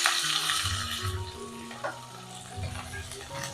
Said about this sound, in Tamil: எண்ணெயில் ஒரு 2 நிமிஷம் வதங்கட்டும்.